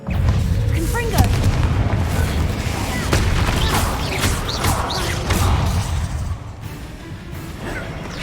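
Repeated Confringo spell blasts crack and boom in Hogwarts Legacy amid a dense, busy battle mix of impacts and crashes, loud and continuous with no gaps between hits.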